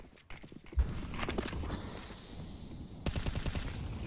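Rapid gunfire rattles through a Counter-Strike match on the Nuke map at the IEM Winter 2021 grand final between Vitality and NiP, bursts of shots and footsteps crackling steadily with no talk.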